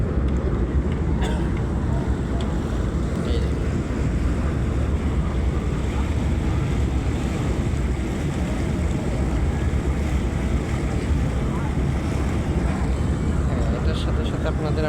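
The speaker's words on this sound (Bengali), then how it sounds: "এখন ফেরিটা একটু ঘোরাচ্ছে" A river ferry turns on the Paturia to Daulatdia crossing, giving a steady, loud engine and water rumble with wind noise that runs unbroken throughout.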